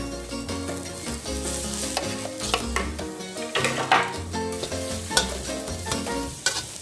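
Chilies hit a hot pan for Thai fresh-fish chili paste, sizzling steadily while a utensil stirs and scrapes against the metal in quick repeated strokes under a low background hum.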